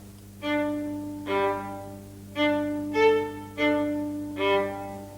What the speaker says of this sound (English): This is pizzicato.